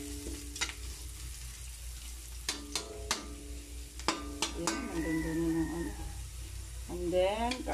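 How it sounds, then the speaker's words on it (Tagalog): Dried anchovies (dilis) sautéing with ginger in a pan, a steady frying sizzle with scraping stirs and utensil clinks throughout, under occasional background sounds. "Ginigisa muna bago ihain sa hapag kainan."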